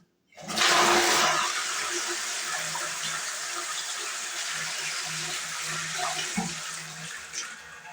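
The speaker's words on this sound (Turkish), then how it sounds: "Şimdi sifonu bir daha çekelim." A toilet flushes with a loud rushing surge of water, settling into a steady gurgling refill close by.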